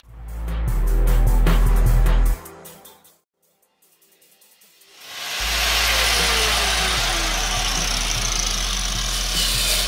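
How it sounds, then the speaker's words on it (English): A grinder sanding a piece of metal for a model bridge: a loud, rough grinding roar with a low hum, cutting out for a few seconds of near quiet, then spinning back up and continuing strongly. "the centrifugal force of this grinder is sending material in every other, not every other, but in a directional force"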